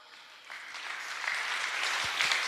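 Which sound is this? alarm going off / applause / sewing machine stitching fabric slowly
applause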